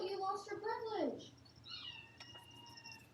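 A house cat meows loudly twice in a drawn-out, wavering call, then softer chirping cries follow over a low background hum, close to the listener.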